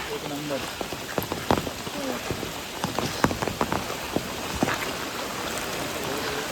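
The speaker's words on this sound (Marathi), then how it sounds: "पाऊस पण खूप आला आहे" Heavy rain pours steadily, drops pattering loudly on surfaces nearby, with faint voices briefly underneath.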